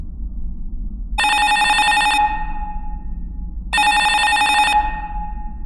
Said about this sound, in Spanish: Yo me desperté de golpe al escuchar el teléfono de la sala